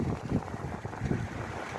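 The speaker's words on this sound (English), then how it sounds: "it's too windy." Strong outdoor wind buffeting the microphone in a steady, rumbling roar with gusty surges throughout, loud and close, no voices.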